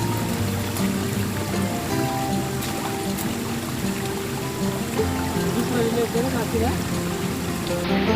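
A monsoon river rushes in a steady, even wash of flowing water from nearby, with faint voices now and then beneath the constant noise.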